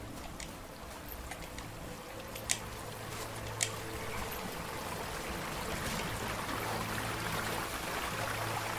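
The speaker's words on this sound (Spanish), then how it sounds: "Ahí está el río que venía bajando." A river in the video game Rime runs steadily throughout, a continuous watery rush with a couple of faint sharp ticks, mid-distance and without any voices.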